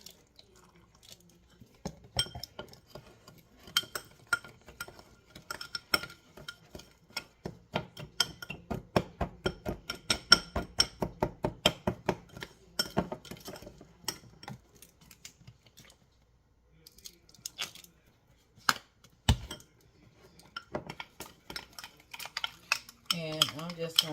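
Spoon stirring brown sugar and ketchup together in a bowl, a steady run of quick clinking, scraping strokes up close, pausing briefly before resuming more sparsely.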